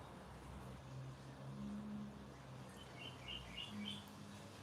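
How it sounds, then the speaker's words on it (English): Faint birds chirp and tweet in short bursts over a steady outdoor rumble, with distant traffic in the background. "Did you hear the birds like I heard while I was breathing the breeze in the trees?"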